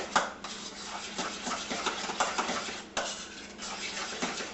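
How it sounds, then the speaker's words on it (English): A spoon scrapes and stirs cupcake filling in a bowl, giving continuous close rubbing and clinking strokes with small bumps as it works the mixture together. "So you just want to give this a good stir to get it all together"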